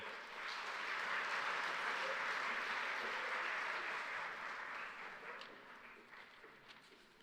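Audience applause for food, fibre and animal industry graduates at a graduation ceremony swells quickly, holds steady for several seconds, then gradually tapers off.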